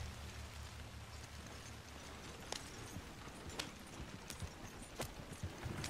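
Horse hooves gallop in Red Dead Redemption 2, a quick rhythmic clip-clop pounding steadily over a dense, rain-like ground noise, fairly close and continuous with sharp accents near the end.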